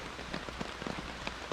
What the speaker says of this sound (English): Now it's raining just a little bit harder,